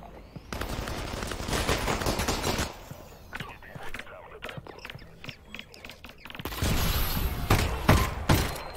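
Gunfire in the VR game Half-Life: Alyx on a custom Lost Coast map: rapid bursts of shots with mechanical clicks and clatter between them, loudest toward the end.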